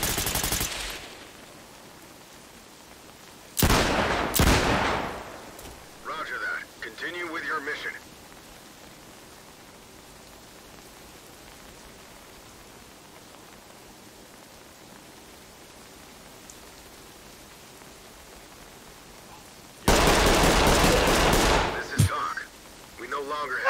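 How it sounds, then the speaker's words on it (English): Gunfire from the tactical shooter game Ready or Not comes as a few loud, abrupt bursts of rapid shots, split by long quiet stretches of low background hiss. "They're shooting up from the top."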